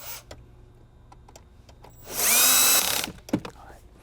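A cordless driver with a T20 Torx bit whirs for about a second, loosening a screw beside the radio in a Nissan Z, close and loud, with light clicks and handling noise before and after.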